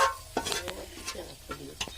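Pitha cakes cooking from rice batter in a pan at home, soft sizzling with a few light scrapes and clinks of a utensil nearby, fairly quiet.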